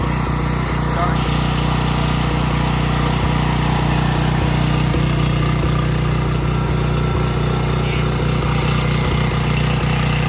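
A backup generator engine runs just after starting, giving a loud, steady, continuous droning hum that holds for the whole stretch without pause.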